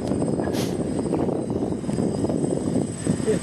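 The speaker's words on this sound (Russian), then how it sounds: "Он тебе вертолетик снимает." A small toy drone helicopter flies overhead outdoors while filming, giving a steady whirring motor hum under wind noise and faint voices.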